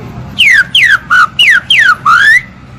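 Parrot imitating the song of the green-winged saltator: six loud, clear descending whistled notes in a steady rhythm, the last one rising, heard alone and close.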